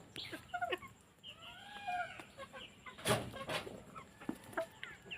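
Desi chickens on a poultry farm cluck and call in short, scattered bursts, with several birds overlapping at moderate distance and a brief louder squawk partway through.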